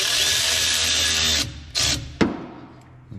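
Power tool tightening a hose clamp on a fuel line while installing a lift pump, a loud close whir that stops abruptly, followed by a few short bursts of tightening, with no talk.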